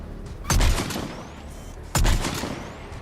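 Two loud, sharp DMR rifle shots firing frost bullets in the Mass Effect 3 video game, about one and a half seconds apart, each with a booming low punch and a short ringing tail.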